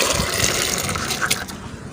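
Chickpeas and prepared ingredients are tipped into near-boiling water in a clay pot, giving a gushing, splashing pour with sloshing bursts that taper off toward the end.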